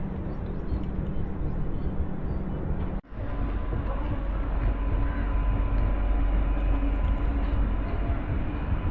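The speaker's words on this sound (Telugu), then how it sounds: "ఆన్ టైంకి అయితే డిపార్చర్ అయిపోయింది మన జన్మభూమి." The Janmabhoomi Superfast Express (12806, Lingampalli to Visakhapatnam) rumbles out of the station with a loud, continuous low roar of wheels and engine, briefly cut once, then steady and close.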